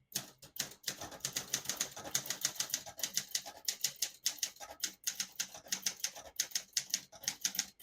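Close, crisp keystrokes on a 1972 Olympia SM9 portable typewriter clack in a quick, steady rhythm, each strike sharp and distinct, with brief pauses between bursts and no voices.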